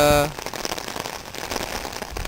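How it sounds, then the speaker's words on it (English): Dense rain patters and crackles steadily on a surface, a continuous heavy downpour following a brief tonal sound at the start. "Rain is coming down at about that angle."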